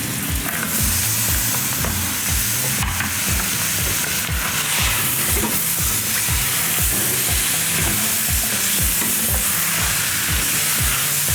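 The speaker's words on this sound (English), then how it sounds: "Start mixing that all together. Toss the rest of our chopped vegetables in." Chopped vegetables for gumbo are stirred in a hot pot, with a loud, steady sizzle and rhythmic scraping strokes of a utensil repeating close up.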